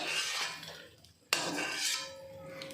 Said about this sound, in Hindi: अब हमारा ये गोंद भून गया है और इसे मैं एक प्लेट में निकाल लेती हूँ